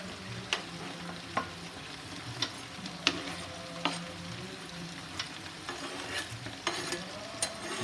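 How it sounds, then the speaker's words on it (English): Onions frying in a big pot for curry base gravy, a soft steady sizzle broken by regular scraping stirs of a spoon against the pot, close and fairly quiet. "I'm going to cook this till the onions are transparent."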